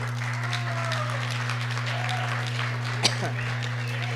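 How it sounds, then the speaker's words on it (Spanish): Audience applause at a Spanish-language author presentation, a steady wash of clapping under a constant electrical hum, with brief voices and a sharp knock partway through. "Un aplauso."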